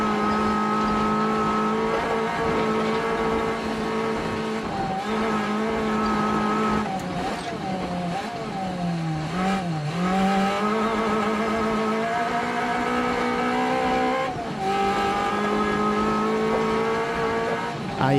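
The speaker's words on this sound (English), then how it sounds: "Oh, the engine fighting uphill there." A rally car engine in the Assetto Corsa Rally video game strains uphill, a loud sustained drone with strong harmonics that dip and rise as revs shift, with occasional tire noise and no talking.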